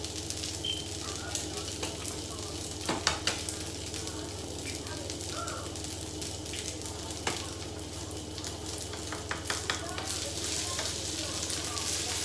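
Two Eggland's Best eggs fry on a hibachi griddle at home, giving a steady close sizzle with faint crackles and a few sharper pops now and then.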